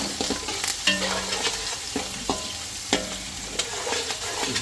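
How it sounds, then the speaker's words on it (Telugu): Curry leaves and onions frying in oil, stirred with a spoon: close sizzling crackle punctuated by regular scraping clinks against the pan, no voices. "కరివేపాకు వేసుకొని బాగా కలుపుకోవాలి."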